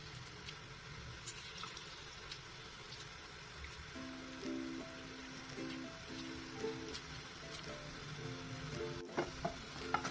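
Lemon juice gets stirred into sugar syrup, a quiet continuous swirling and sloshing of liquid with light scraping, faint throughout with small clinks and a short tonal hum in the background.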